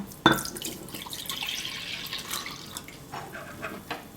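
Warm milk (250 ml) is poured over dry yeast and a teaspoon of sugar in a bowl, a close liquid splash and trickle starting with a sharp onset, then a softer stream and drips.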